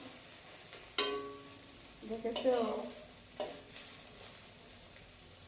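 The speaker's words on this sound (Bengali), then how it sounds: "আমার ডিম ভাজা হয়ে যাচ্ছে" An egg fries in hot oil in a wok at home, giving a steady hiss with a few sharp clanks of a utensil. A voice speaks briefly.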